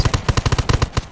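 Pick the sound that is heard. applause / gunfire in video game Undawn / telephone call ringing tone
gunfire in video game Undawn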